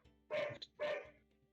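A dog gives two loud barks about half a second apart, each a short harsh burst close to the listener, followed by a faint tail of lower noise.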